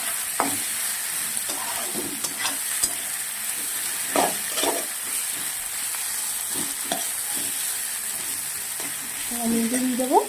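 Tomato masala for a fish curry sizzles steadily in a pan while a spoon scrapes and stirs in irregular strokes, with faint speech near the end.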